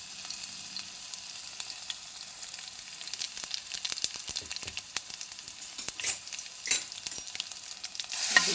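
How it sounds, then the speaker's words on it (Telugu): Ginger garlic paste and cumin seeds sputter in a hot pan with a soft, steady crackle, punctuated by sharper pops and a brief stirring scrape near the end. "ఇప్పుడు ఫస్ట్ అల్లం వెల్లుల్లి పేస్ట్ వేసేసి జీలకర్ర ఒక స్పూన్ వేయాలండి."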